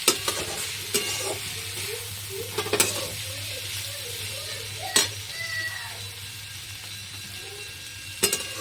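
Vegetable chowmein stirred and frying in a pan, with a steady sizzle and scraping spatula strokes, a few sharper clanks against the pan, heard close up with no talking.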